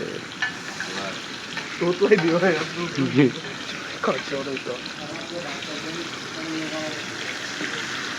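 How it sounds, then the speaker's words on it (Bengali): Hilsa fish fry in mustard oil at Mawa, a close, strong crackling sizzle with bursts of bubbling and stirring, while voices talk over it. "এই যে ইলিশ মাছ তেলে ছাড়ছে"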